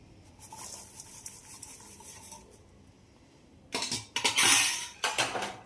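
Ground peanuts and sesame are mixed into boiled jaggery in a pan, with a quiet spell and then loud, close scraping and stirring bursts near the end.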